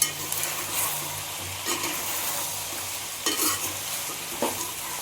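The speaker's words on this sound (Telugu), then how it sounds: "ఇప్పుడు ఇదంతా బాగా కలుపుతున్నాం." Telangana-style mutton head curry is stirred in a pan, a low continuous frying sizzle punctuated by a few distinct scraping strokes of the spoon, close up and with no talking.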